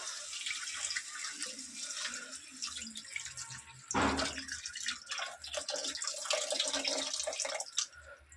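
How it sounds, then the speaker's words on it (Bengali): Water pours into a cooking pot of browned masala in a home kitchen, a continuous splashing rush with a sharper surge midway, close and fairly loud with no talk. "এবার আমি এর মধ্যে জল অ্যাড করে দেবো।"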